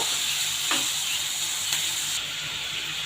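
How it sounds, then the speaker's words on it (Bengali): Fish coated in turmeric and salt frying in hot oil, a loud continuous sizzle with a brief scrape of stirring partway through, no voices. "হলুদ লবণ দিয়ে ভালো করে নেড়ে চেড়ে ভেজে নিচ্ছি মাছটাকে"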